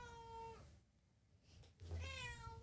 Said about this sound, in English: My kitty's screaming.